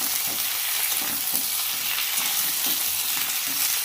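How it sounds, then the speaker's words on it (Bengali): Tomatoes and green chillies fry with eggplant in a pan, a dense, even sizzling hiss that holds steady from start to finish without speech. "আর টমেটো দুটো কাঁচা লঙ্কা এটাকে আরেকটু ভাজবো"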